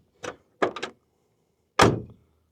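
A car door on a 1965 Chevrolet Impala SS 327ci 4-speed is opened and shut: two quick latch clunks, then one heavy, solid slam close by, with quiet in between.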